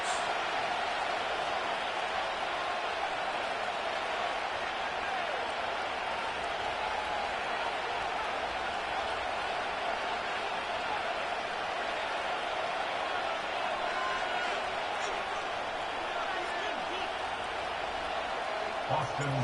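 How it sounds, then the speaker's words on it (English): Stadium crowd in an EA Sports football video game at Northwest Stadium in Landover, a dense, steady roar of many voices and faint applause, sustained without breaks for the whole stretch. "The crowd is definitely ready."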